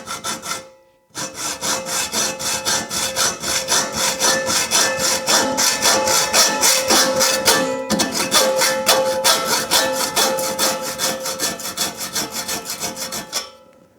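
A hacksaw cuts through rusted metal with a long run of steady, rhythmic back-and-forth rasping strokes, loud and close, broken by one brief pause near the start and a quick hitch partway through.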